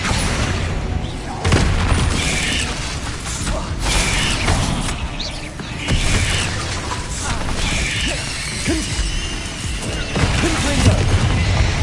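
Bombarda spell explosions from the video game Hogwarts Legacy, a dense barrage of booming blasts and crashing debris that runs continuously and loud with no pauses.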